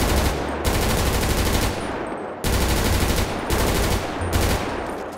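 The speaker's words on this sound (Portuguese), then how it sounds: "Bom, vocês viram a rajada." Long automatic bursts from a G36 rifle in GTA 5, loud and close, rattling in rapid sustained strings with short pauses between volleys, no talking.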